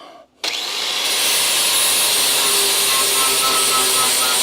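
An angle grinder fitted with a flap disc grinds down welds on a crew cab Charger, starting abruptly after a brief quiet moment and then holding a loud, steady, high-pitched whine close by with no pause.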